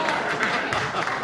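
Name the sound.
audience applause on a TV talk show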